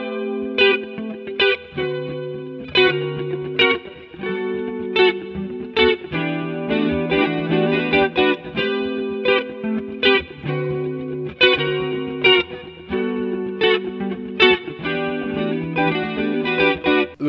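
An electric guitar with effects strums a steady rhythmic pattern, chords hit in repeated bursts with short pauses, played alone and up close.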